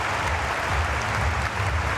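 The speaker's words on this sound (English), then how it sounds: "gets huge applause from his teammates and from the stands" Steady applause from teammates and stands fills a university gymnastics arena at a men's all-around competition, a dense even wash of clapping with no voices on top.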